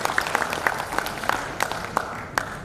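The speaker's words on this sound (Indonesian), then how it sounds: "Tepuk tangan buat Pradin." Applause from an audience at a PERADIN national leadership and working meeting, a brief patter of claps with a few sharper slaps standing out, fairly soft and steady throughout.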